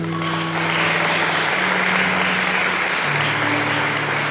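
An audience at a Mother's Day recital held by the Ceará judiciary breaks into loud, sustained applause honoring mothers, a full wash of clapping from many hands that holds steady throughout.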